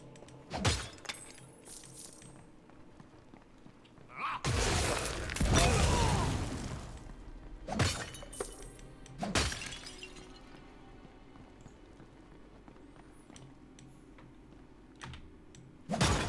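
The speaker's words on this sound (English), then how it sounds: "Smashing pots is also very rewarding." Pots shattering in the action RPG Wolcen: Lords of Mayhem, a string of sharp crashes and breaking bursts, one longer smashing flurry in the middle, and scattered clicks of keyboard and mouse between them.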